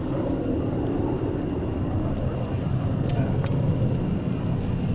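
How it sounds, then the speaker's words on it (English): An F/A-18C Hornet jet accelerates at a naval air station airshow, producing a steady, broad distant roar while an announcer talks over it. "the F-18 is accelerating to nearly the speed of sound"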